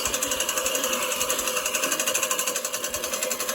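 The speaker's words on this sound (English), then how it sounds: "anything it hits, it mows." A Gardena 380 15-inch manual reel mower cuts grass with a fast, even whirring clatter of its spinning blades, steady and close, with no speech.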